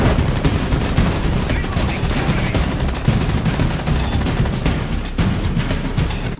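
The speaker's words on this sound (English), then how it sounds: "Don't ADS, just hip fire" Rapid hip-fire gunshots in the video game Rainbow Six Siege, a dense, loud burst of continuous automatic fire cracking without pause for several seconds.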